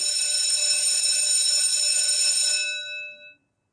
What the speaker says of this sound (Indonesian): closing bell baru saja berbunyi